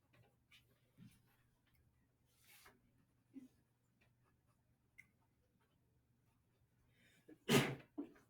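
A single sharp human sneeze bursts out near the end, loud and close, following a few faint scattered rustles and small taps in an otherwise quiet room.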